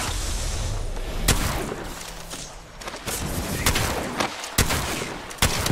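Gunfire in the video game Apex Legends, with rapid bursts of loud, sharp shots and several heavy single cracks over a dense, noisy battle backdrop, close and continuous.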